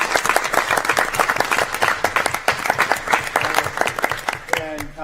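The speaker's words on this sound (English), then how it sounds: "Just give a round of applause for" Applause from people gathered at a city council meeting, dense, close clapping with a crowd sound, continuing strongly throughout with a brief voice near the end.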